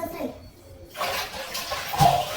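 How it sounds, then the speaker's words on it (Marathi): Water drains through a sieve set aside to drip at home, a soft trickling spray that rises after a brief quiet moment and ends with a louder splash. A voice is faintly present. "पाणी निथरण्यासाठी ठेवते, नाही तर पाणी ते ना चाळीवर तसंच राहील."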